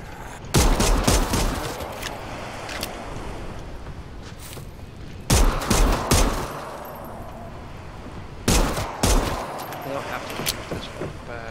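Gunfire at zombies in the action game Dead Island 2, three loud clustered bursts of close shots spaced several seconds apart, with game ambience and a voice talking between them.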